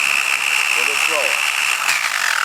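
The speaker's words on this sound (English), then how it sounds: "I'm going to hit the trigger on my grinder" An angle grinder spinning at reduced speed through a variable speed control, giving a steady close whine that holds throughout with a few brief shifting tones.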